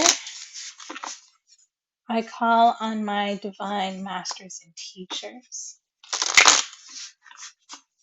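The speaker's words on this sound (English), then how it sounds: "So, I'm gonna go ahead and shuffle here." A Rider-Waite tarot deck is shuffled by hand during a reading, with soft papery riffling and clicks heard near and intermittently under a woman's spoken invocation.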